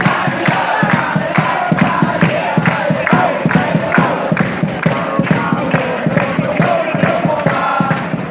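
Patumkongka school football supporters chanting in unison, a loud crowd shouting in a steady rhythmic beat with regular pulses repeating throughout.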